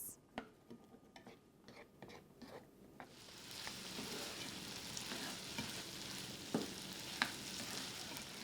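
Asparagus and tomatoes fry in a pan turned up to high heat, a steady close sizzle with occasional stirring clinks and pops; the first few seconds carry scattered taps before the hiss swells and holds.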